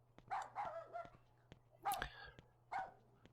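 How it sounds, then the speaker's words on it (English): Dog barking in the survival horror game Rule of Rose, several sharp barks and yelps at an uneven pace, fairly faint over a low steady game hum with small ticking sounds. "Alright, so we got another barking dog."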